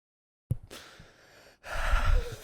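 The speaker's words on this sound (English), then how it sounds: "The quivering breathing." A person breathes in shaky, quivering breaths: a sharp gasp, a trembling exhale, a short pause, then a longer, louder airy breath, heard close and alone.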